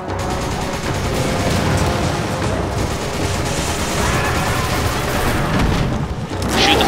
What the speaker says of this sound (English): Shoot the fire barrel thing.